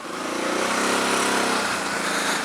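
Quad ATV engine on a ride, a loud continuous close-up engine drone with steady revving and slight pitch shifts throughout.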